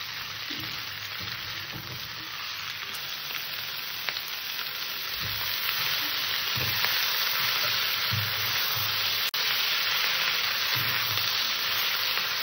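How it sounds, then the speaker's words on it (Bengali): Ivy gourd curry with fish head frying in a pan, a steady broad sizzle that holds for the whole stretch, with soft low thumps of stirring now and then and no voices. "কুঁদরিটা দিয়ে আমি হালকা করে কষে নেব তরকারিটা।"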